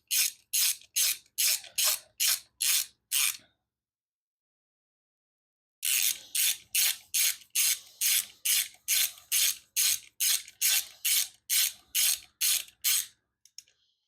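Rapid clicking of a ratchet snugging bolts on a motorcycle during a fan and light install, two close bursts of evenly spaced strokes separated by a pause.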